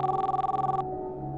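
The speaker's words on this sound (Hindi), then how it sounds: "फोन उठाओ" A telephone bell rings indoors in a rapid, trilling burst that cuts off partway through, followed by a low lingering hum.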